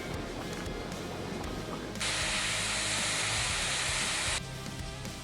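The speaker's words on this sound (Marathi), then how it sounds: "आता आपण फोडणी देऊन घेऊया।" Whole spices, bay leaf and aromatics hitting hot oil for a tempering flare into a sudden loud, bright hiss that holds for about two seconds over a low, busy background, then cuts off abruptly.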